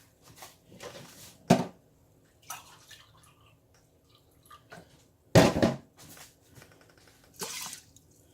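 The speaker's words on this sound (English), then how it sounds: "Putting my filtered water in here." Filtered water is poured into a cooking pot in a home kitchen. It comes as several short splashing bursts separated by quiet gaps, with two louder pours standing out close by and no talking.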